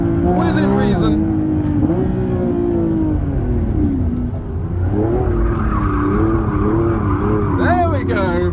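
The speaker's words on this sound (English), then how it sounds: "All-wheel drive donuts. Hey, in the Revuelto." Lamborghini Revuelto spinning all-wheel drive donuts, a loud engine drone with revs rising and falling over long squealing tyre skids, while someone talks excitedly at the start and end.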